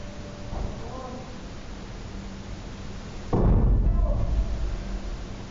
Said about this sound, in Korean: 폭발음이 계속 들리는 상황.